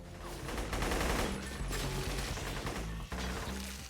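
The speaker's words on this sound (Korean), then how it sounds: "쏟아지는 총탄의 화력에 가루가 되어 여기저기 튀어오르고 있는 콘크리트 조각들" Heavy gunfire in a film shootout scene, bullets pulverising concrete pillars: a dense, continuous barrage of shots and debris crashes, loud and close, with a brief dip near the end.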